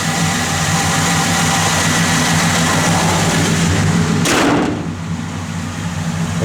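A 1966 Buick Skylark engine with a factory two-barrel carburetor idles steadily and close, a smooth low rumble; a short thump or rustle briefly cuts in near the end before the idle carries on.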